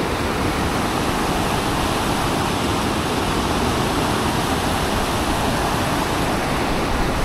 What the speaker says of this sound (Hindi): तो राहुल जी आप बताइए कि ये जो नदी बह रही है तो इसके बारे में आप क्या कहना चाहें